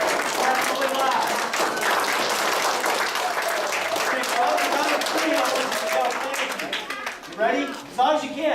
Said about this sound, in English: give them a big round of applause and thank them for what they do